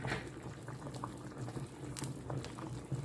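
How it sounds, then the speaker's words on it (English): Smoked herring boils steadily in a pot of water, a continuous low bubbling with scattered pops and small splashes, close and alone. "we're going to boil this for about 10 to 15 minutes"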